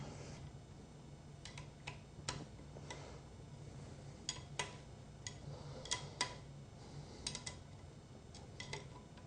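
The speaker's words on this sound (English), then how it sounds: "we'll tighten to OEM torque on these clutch cover bolts" Torque wrench tightening the clutch cover bolts on a Yamaha YZ450F dirt bike, a series of sharp, faint ticks and clicks in an irregular rhythm against quiet background noise.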